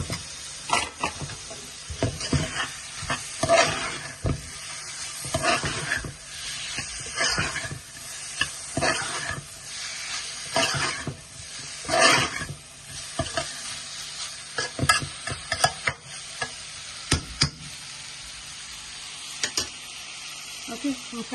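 Masala for a hilsa fish curry with shatkora is stir-fried in a pan, a spoon scraping and stirring in repeated strokes over a continuous sizzle.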